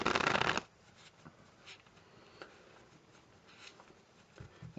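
A deck of playing cards is riffled in a strip-cut false shuffle, with a loud close burst of card flutter at the start followed by faint handling taps and rustles.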